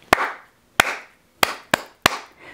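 Five sharp hand claps ring out in an uneven rhythm, close and crisp, each with a short echoing tail, with no talking between them.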